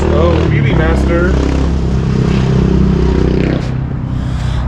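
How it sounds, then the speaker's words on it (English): A motorcycle roars past close by, its engine loud and rising as it accelerates through a wheelie on a street beside a metal shop, with a sustained revving drone throughout. "That guy drives by here, does a wheelie almost every day."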